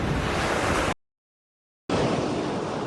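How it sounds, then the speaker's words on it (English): Ocean surf crashes against beachfront homes on stilts along Seagull Street in Rodanthe, Outer Banks, as a loud, steady wash of waves, broken by a sudden second of silence before the roar resumes. "waves batter beachfront homes"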